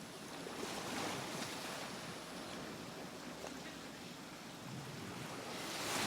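Ocean surf at the seaside washes in a continuous broad roar, swelling slightly near the start and end, with some wind noise on the microphone and no talking.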